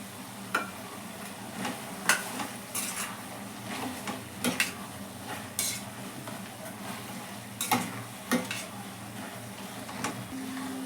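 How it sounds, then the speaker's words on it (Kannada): Brinjal gojju being stirred with sambar powder in a pan, an irregular series of scraping spoon strokes with soft clinks over a faint sizzle, close and with no talk. "ಹೀಗೆ ಮಿಕ್ಸ್ ಮಾಡಿ ಇದಕ್ಕೆ ಸಾಂಬಾರು ಪುಡಿಯನ್ನು ಸೇರಿಸ್ತಾ ಇದ್ದೇನೆ."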